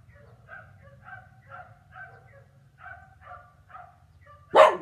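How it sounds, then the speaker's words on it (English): Several neighborhood dogs bark and yip in repeated short bursts against a low background hum, ending with a sudden loud sharp sound up close. "barking"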